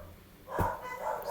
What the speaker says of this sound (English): sorry for the dogs, they're barking right now.